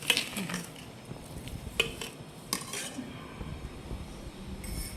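Avakaya mango pickle being mixed by hand with chili powder, mustard powder and oil, producing soft stirring and scraping with scattered metallic clinks of a spoon against the vessel, close and quiet, with no talking.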